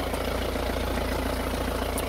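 A Renault Clio 2 engine idles just after starting, its power steering faulty, with a steady continuous hum and low rumble that stays even throughout and no talking.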